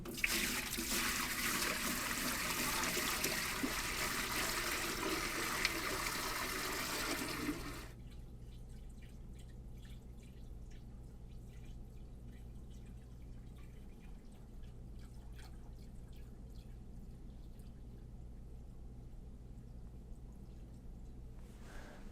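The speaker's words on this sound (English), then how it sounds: "all I'm going to do is pour some water into the sump, see if it leaks" Water pours into a 20-gallon aquarium sump, a loud, steady rush and splash for about eight seconds, then drops to a quieter ongoing trickle and dribble with faint drips.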